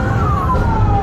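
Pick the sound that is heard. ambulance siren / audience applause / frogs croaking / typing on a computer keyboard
ambulance siren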